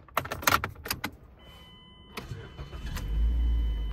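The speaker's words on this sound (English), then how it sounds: "we're gonna go ahead and start the car" A Mazda car's engine cranks and starts after recently replaced engine mounts, with clicks and jingling keys first, then a catching engine settling into a low, steady idle close by.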